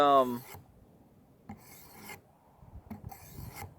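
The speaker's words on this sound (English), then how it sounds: "Alright, so we're still sharpening here." A Nitro-V steel knife is drawn across the abrasive stone of a Work Sharp Precision Adjust sharpener in three separate rasping strokes, each a close, dry scrape lasting about half a second, with quiet pauses between.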